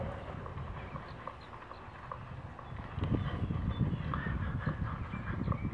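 A ridden horse's hooves thud on the ground in a soft irregular rhythm under some background noise, growing louder and busier partway through.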